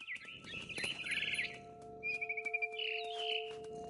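Mama bird in the video game What Remains of Edith Finch, chirping in quick, bright, repeated tweets and trills against a steady background tone, heard alone.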